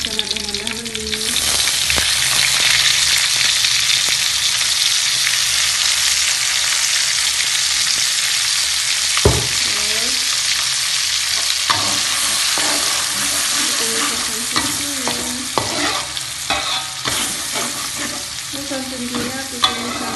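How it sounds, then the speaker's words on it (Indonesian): Asam sunti and dried small shrimp (udang rebon) sautéing in a pan for an Aceh-style dish, a loud continuous sizzle with frequent spatula scrapes and clinks against the pan, close up and without talk. "Suntinya aku tumis sampai kering"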